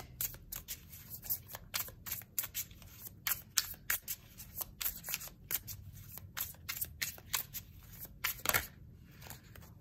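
Tarot cards shuffled and drawn by hand for a three-card reading, a dense run of close papery riffles, slaps and flicks continuing steadily with a sharper snap near the end, no voice over it.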